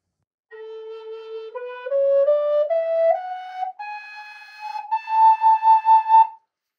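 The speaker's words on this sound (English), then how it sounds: "we'll check out the major scale from the low flute" Major scale played on the low A flute of a Richard Dubé dual flute in indigenous tuning, rising note by note with clear breathy tones, the last note pulsed several times, solo and close.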